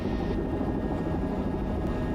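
Bell 505 helicopter on the ground at an airport parking spot, a steady rumbling drone of engine and rotor, moderately distant and even throughout.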